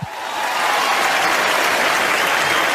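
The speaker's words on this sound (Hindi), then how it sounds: "जोरदार तालियां पाजी के लिए होनी चाहिए" A studio audience at a televised comedy show bursts into loud, sustained applause for a guest, a dense wash of clapping that swells within a moment and holds steady throughout.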